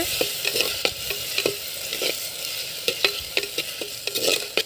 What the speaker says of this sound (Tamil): இந்த ஸ்டேஜில் கருவேப்பிலை போட்டுக்கலாங்க.